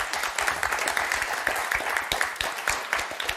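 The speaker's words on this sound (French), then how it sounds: "Et on va vous applaudir très fort" Studio audience applause on a French television game show, steady dense clapping filling the whole stretch at moderate loudness with no voices over it.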